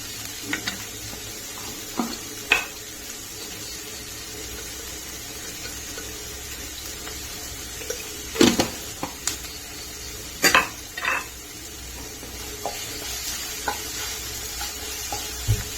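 Vegetables for aviyal wilt in a pan with salt, a faint steady sizzle running underneath scattered utensil scrapes and clinks from stirring, some sharper knocks standing out midway, no talking.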